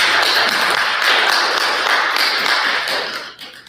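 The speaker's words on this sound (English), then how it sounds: "Can we have a round of applause for our panelists?" An audience at a panel discussion applauds, a loud, dense wash of clapping from many hands that runs steadily and then tapers off at the end.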